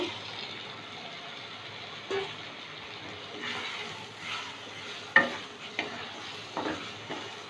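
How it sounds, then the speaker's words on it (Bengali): Potato pieces with spice masala fry and get stirred in a pan, a soft sizzle under intermittent scraping and clattering strokes, fairly faint and close. "মশলার সাথে আলুটা একটু কষিয়ে নেব"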